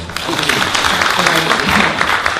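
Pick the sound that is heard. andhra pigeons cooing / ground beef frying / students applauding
students applauding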